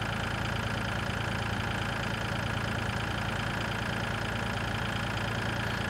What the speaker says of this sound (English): he's just struggling to chug along with this massive trailer filled up with corn